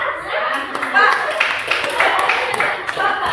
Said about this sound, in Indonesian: di situ tepuk tangan